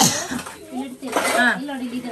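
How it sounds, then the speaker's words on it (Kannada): Dishes clink and scrape under running water while a person talks close by. "ಸೋಪ್ ಹಾಕಿ ಉಜ್ಜು. ಪಾತ್ರೆ ತೊಳಿ."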